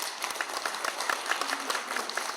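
An audience at the Korea Chamber of Commerce and Industry claps and applauds steadily for a couple of seconds, a dense patter of many hands with no pauses.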